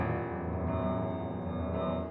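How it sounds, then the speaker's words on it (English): Low-register piano trill opening Scriabin's Piano Sonata No. 5, Op. 53, a dense, steady rumbling tremor of rapidly alternating bass notes sustained at even loudness throughout. "So we of course have the opening trill."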